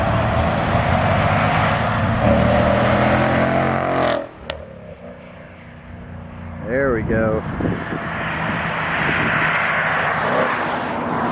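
S550 Ford Mustang GT with a Borla Atak exhaust: a loud, close engine roar cuts off sharply, then a couple of quick throttle blips and a swelling rev follow. Someone speaks briefly.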